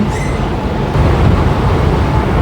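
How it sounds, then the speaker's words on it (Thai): Yellow Line train at an elevated station, a loud, steady low rumble of the train running, with a brief high squeal near the start and no talk over it. "บรรยากาศบนสถานีรถไฟ สายสีเหลืองครับ"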